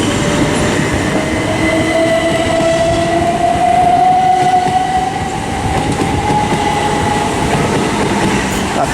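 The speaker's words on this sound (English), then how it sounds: "And the 1317 from Bournemouth to Manchester Piccadilly is also arriving." A passenger train pulls into Southampton Central station, a loud continuous rumble and wheel noise with a rising tonal whine from the traction motors, close by throughout.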